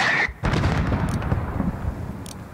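Mortar fire in Call of Duty Modern Warfare 2019, a heavy boom with a short gap then a rumbling blast that decays slowly, loud and close, with faint sharp cracks near the end.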